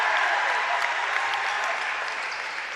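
Crowd applause and cheering fill the stands of a packed high school boys' varsity basketball game, a steady, dense roar of clapping that holds at full strength for the whole stretch and eases only slightly at the end.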